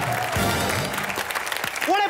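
A studio audience at a Comedy Nights With Kapil taping bursts into applause, clapping steadily while a voice carries over the top.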